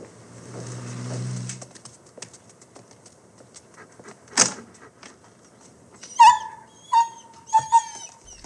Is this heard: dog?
yes